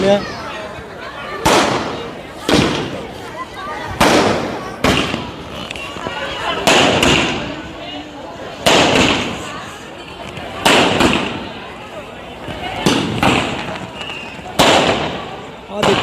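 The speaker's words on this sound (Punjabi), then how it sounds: "ਜਿਹੜੀ ਇਹ ਆਸਤਵਾਜੀ ਪਟਾਕੇ ਕਿੱਥੇ ਜਾ ਰਹੇ ਨੇ" Fireworks and firecrackers burst repeatedly at a Sikh gurdwara celebration for the birth anniversary of Baba Zorawar Singh at Fatehgarh Sahib, loud sharp bangs every second or two over a steady crowd murmur and a voice talking.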